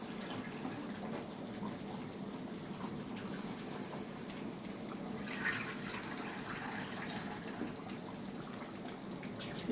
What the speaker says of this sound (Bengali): এই যে জলটা দিচ্ছি, এটা কিন্তু একটা মাপের জল